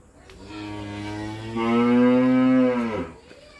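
A cow in a farm shed at evening milking time lets out one long, loud moo that rises partway through and lasts about three seconds. It is close by, with no talk over it.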